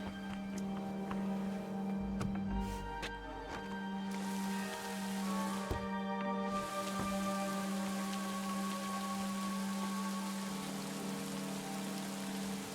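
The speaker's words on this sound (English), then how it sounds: "Maybe because it's raining." Steady rain falls across the medieval world of the video game Kingdom Come: Deliverance II, a continuous soft hiss of drops with sustained musical tones ringing over it for the whole stretch.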